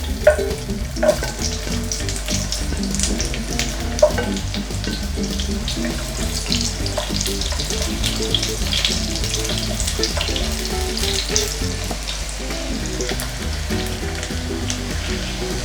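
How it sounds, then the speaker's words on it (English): Onion frying loudly in hot oil for a Nigerian native jollof rice, a dense, steady sizzle and crackle with stirring, continuous and close without speech. "to my hot oil, I'm going to put in my onion"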